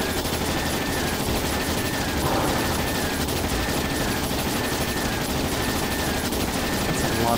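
Dense, continuous gunfire from the game Trails in the Sky Second Chapter, rapid bursts blending into an unbroken barrage that stays loud and steady throughout.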